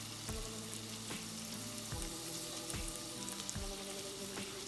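Mushrooms and onions sauté in a pan with a continuous soft sizzle, broken by occasional spatula knocks against the pan at a slow, regular pace.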